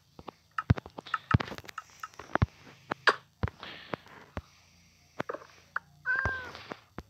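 A cat in the video game Minecraft meows once near the end, following a series of sharp clicks and short taps scattered across the moment.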